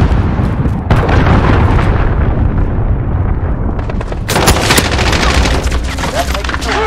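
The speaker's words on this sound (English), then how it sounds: "Allied cruise missile launched." Cruise missile strike in the Call of Duty: Modern Warfare video game, a loud, dense barrage of blasts and gunfire rumbling continuously with sharp cracks, a radio voice heard over the chaos.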